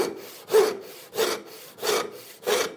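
A handsaw cuts through a board near a knot in the wood, with four or five steady rasping strokes in an even back-and-forth rhythm, close up and alone.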